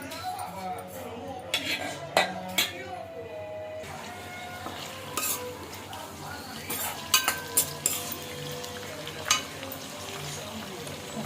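Green chillies and tempering spices fry in a pan for semiya wheat rava upma, a soft steady sizzle broken by several sharp clinks of a utensil against the pan, with a voice speaking over it.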